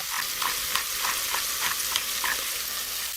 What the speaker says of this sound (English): That way, we can saute everything even more deliciously.